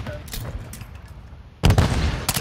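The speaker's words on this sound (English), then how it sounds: "Throwing the stun grenade!" A stun grenade goes off in the Call of Duty video game: quiet game ambience, then a sudden loud, booming burst that keeps ringing to the end.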